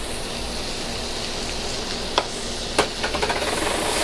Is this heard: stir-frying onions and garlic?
yes